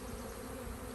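Honey bees in a nuc beehive frame make a brief, low, steady buzz, faint and continuous for under a second.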